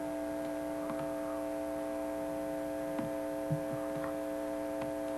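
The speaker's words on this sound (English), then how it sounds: "The noise you hear is coming from the PA speaker." An old public-address speaker in a disused power plant gives off a steady, quiet electrical hum with layered tones, broken only by a few faint ticks and knocks.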